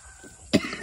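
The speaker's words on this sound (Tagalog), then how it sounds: "Pang iba na kasi yung ubo mo, tay." A single short, sharp cough from an older man close by, standing out against a quiet background.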